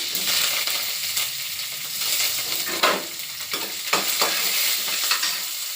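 Carrots drop into a hot frying pan and are stirred, a close sizzling hiss broken by several scraping strokes of a spatula, with no voices.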